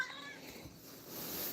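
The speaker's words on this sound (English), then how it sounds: "Hello there, silly little kitties." A cat gives a brief faint meow, followed by a soft breathy rising sound near the end, heard alone without talk.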